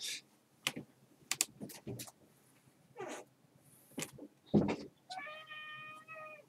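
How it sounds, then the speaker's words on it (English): A cat meows repeatedly, wanting to be let in, its short, close cries mixed with bursts of computer keyboard typing and a sustained tonal game sound near the end. "Oh, the cat wants to get in."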